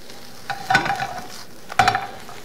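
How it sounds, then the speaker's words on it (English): Two short bursts of a utensil scraping and clinking in a pan as greens, onions and dill are stirred into scrambled eggs, close and fairly loud over a quiet low sizzle, with no voices. "I'm going to stir in my greens and onions, as well as a sprinkling of dill"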